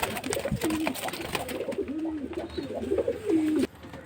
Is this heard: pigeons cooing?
yes